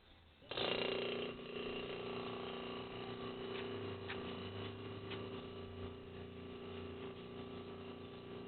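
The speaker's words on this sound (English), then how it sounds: "So I'm just going to go turn the vacuum pump on and see how that goes." A vacuum pump on a Rover P6 air-conditioning conversion starts abruptly and settles into a steady mechanical hum with faint ticking, running continuously at a moderate level with no voices.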